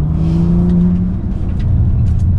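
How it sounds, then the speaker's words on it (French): A 2020 Bentley GT sounds through its sport exhaust, a loud, close, steady engine drone that holds for about two seconds, with no talking. "avec cette ligne d'échappement, ça permet d'entendre le son de la voiture malgré son gabarit"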